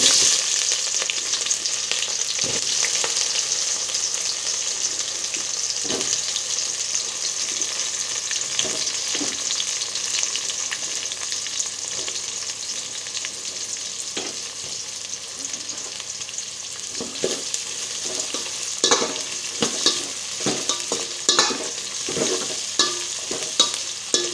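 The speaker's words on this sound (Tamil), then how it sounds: "வெங்காயம் வந்து நல்லா ப்ரௌன் ஆகிற வரைக்கும் நல்லா வதக்கிக்கலாம்" Sliced onions sauté in hot oil with whole garam masala for vegetable biryani, giving a steady close sizzle with frequent scraping stirs and clicks throughout.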